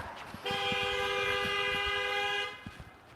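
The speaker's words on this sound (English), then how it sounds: "that car turned long before that car was going and it honked" A car horn honks once, a loud, steady, bright toot lasting about two seconds, heard alone against faint background noise.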